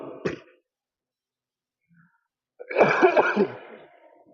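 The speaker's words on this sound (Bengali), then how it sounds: "কাশিটা যখন উঠছে ভাই খুব কষ্ট পেয়েছি" A short throat-clearing cough, then a pause and a rough, raspy burst of coughing with a harsh, strained quality, close by, from a person recovering from several days of fever.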